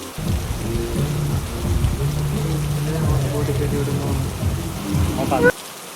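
Steady rain patters on the roof of a houseboat in Alappuzha while people talk and music plays nearby, the downpour cutting off abruptly near the end.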